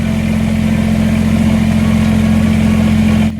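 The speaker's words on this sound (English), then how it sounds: "It's a nice day for a tractor ride." A steady, low engine idling and chugging close by, with a constant deep hum that cuts off abruptly at the end.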